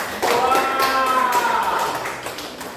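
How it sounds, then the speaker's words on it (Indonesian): Classroom applause breaks out for a student group after their presentation, a burst of many hands clapping together close by, fading gradually over a couple of seconds. "Tepuk tangan."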